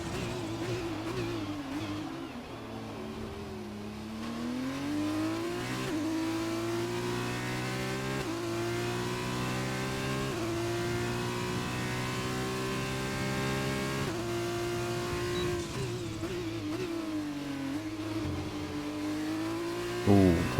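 An F2 race car engine on a fast lap in a racing game, screaming continuously with rising pitch through the gears, sharp upshifts and dips for braking, loud and close throughout.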